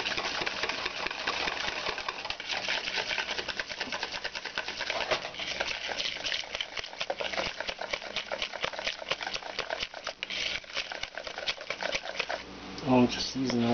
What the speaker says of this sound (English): I'm just using a whisk. I did all this by hand, including beating the egg.